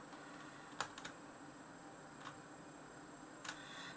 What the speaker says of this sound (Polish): Postaram się tak, żebyście nie słyszeli mojej klawiatury później